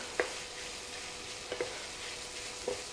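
Ground beef and garlic sizzle steadily in a hot pan, a soft continuous frying hiss broken by three brief scrapes and clicks of a spoon stirring, heard up close with no talking.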